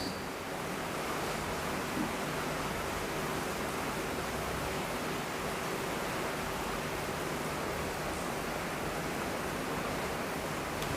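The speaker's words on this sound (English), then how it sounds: "And the pit-pat of the rain" Steady rain falls on leaves and a roof, a dense, even hiss of countless drops that stays constant and enveloping throughout, with no voices.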